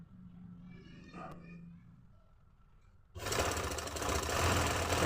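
A sewing machine stitches a trouser seam, starting abruptly after a quiet stretch and running loud and steady close by, following a brief faint voice-like sound early on.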